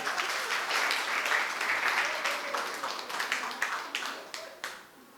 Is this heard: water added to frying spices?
no